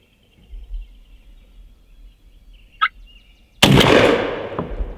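A wild turkey gobbler sounds one sharp gobble during a hunt, moderately distant in a quiet outdoor setting, and a loud, sudden shotgun blast follows a moment later and rings out.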